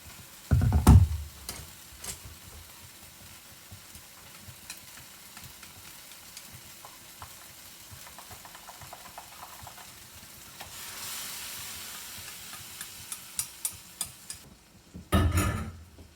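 Eggs sizzling and frying in a wok, with occasional clanks and scrapes of a utensil stirring, plus a louder burst of sizzle near the end.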